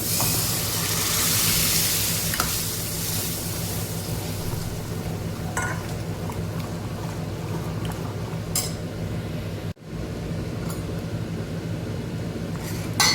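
Lentils (dal) hit a hot pan of cooking tomato mixture, giving a steady hissing sizzle that persists over the whole stretch, with a sharp brief break near the end and no speech.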